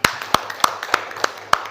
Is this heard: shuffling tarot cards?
no